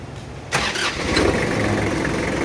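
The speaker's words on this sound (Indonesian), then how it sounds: "Napakan po na yung clutch at start po natin." A Kubota L1-255 tractor engine cranks and catches about half a second in, then settles into a steady, close diesel idle with no voices.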